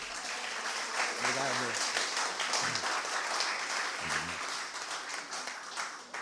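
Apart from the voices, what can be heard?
audience applause for a geologist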